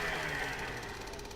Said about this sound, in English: let's start the engine anyway